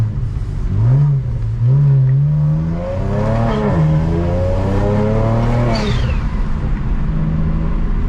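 A loud BMW 335i engine revs up and down in quick bursts on light throttle, rising whine climbing in pitch, heard close over road and wind noise.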